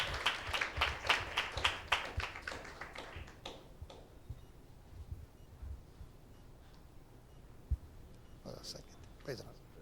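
A church congregation claps for God's glory, a burst of quick, rhythmic hand claps at the start that quickly thins into scattered taps, with a few faint claps returning near the end.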